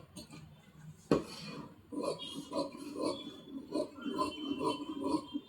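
Scissors cut through maggam work cloth to shape a blouse back neck. One sharp metallic clack is followed by a run of quieter, irregular snips and rustles, all close and soft.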